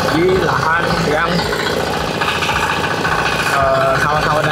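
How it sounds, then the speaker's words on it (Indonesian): A mini four-wheel tractor engine runs steadily and loudly up close, a continuous idling drone with a voice talking over it. "Ini saya akan memindahkan traktor 4 roda mini ini di lahan yang"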